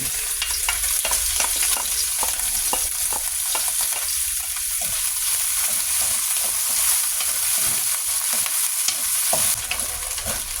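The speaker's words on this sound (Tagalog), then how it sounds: "Iprito muna natin bahagya yung hotdog. Saka ito, bacon." Hotdog and bacon sizzle in a pan, a dense, continuous frying hiss with scattered crackles and pops, close and fairly loud throughout, with no talking.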